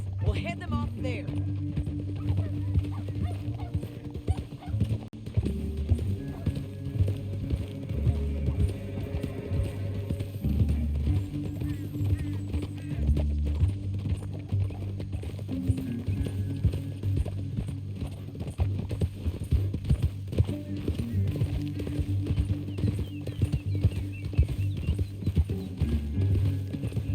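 Horses' hooves clip-clop steadily through a canyon in Red Dead Redemption 2, a continuous galloping rhythm with tack and gear rattling and an occasional whinny, while voices talk over the riding.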